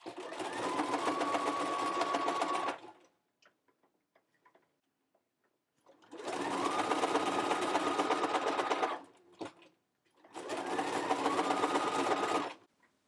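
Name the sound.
sewing machine stitching elastic waistband on doll skirt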